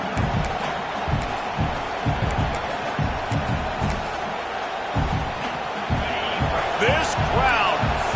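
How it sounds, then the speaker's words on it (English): A college football video game stadium crowd, Clemson versus Louisville, roars in a steady, dense wash of noise with rhythmic thuds and whistles, while a commentator talks over it. "This crowd, full throat, splitting the eardrums"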